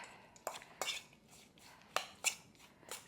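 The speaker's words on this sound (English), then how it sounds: "And I'm going to stir this up" Peaches being stirred with vanilla pod and sugar in a bowl, giving several short, quiet scraping and clinking strokes spaced irregularly, with no talk over them.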